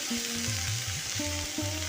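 Shrimp fries with sliced onion, onion stalks and potato in a pan, a steady soft sizzle with low tonal hum underneath, continuous and close, with no talking.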